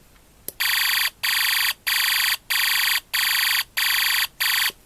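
A UM3561 sound-effect chip producing its alarm tone: seven loud, evenly spaced electronic beeps with short gaps, a harsh buzzing siren-like pulse, heard alone after a faint click.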